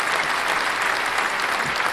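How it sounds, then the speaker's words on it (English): A large crowd applauds and cheers in a dense, continuous wash of clapping that stays loud and even throughout, with no pauses. "The crowd goes wild."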